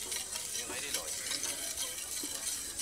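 Mint butter and cream whisked into a sauce in a pan, a steady soft scraping and swishing with faint sizzle, close and continuous.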